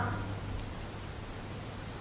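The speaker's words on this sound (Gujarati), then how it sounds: "વરસાદી ઝીણા ઝરમર છાંટા પણ એક બાજુ પડી રહ્યા છે" Light drizzle falls in Ahmedabad as a steady, faint hiss of rain with no distinct drops, constant throughout and alone.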